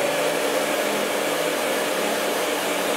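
Hair dryer blowing hot air onto a round brush while styling short hair, a loud, steady close-up whoosh with a constant motor whine throughout, no voice present.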